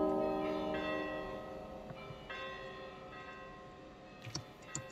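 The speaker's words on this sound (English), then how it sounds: "Scared them off with the bell?" Bell tones ring out in the video game GRIS, a sustained resonant chime decaying gently with a few soft ticking clicks near the end, no voices.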